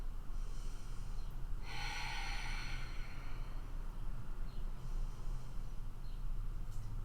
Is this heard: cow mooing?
no